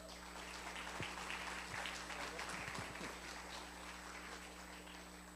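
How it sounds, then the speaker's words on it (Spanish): Applause in a church service welcoming the pastor, a faint, steady wash of clapping from a congregation under a constant low hum, with no talk over it. "Vamos a recibirlo con un fuerte aplauso."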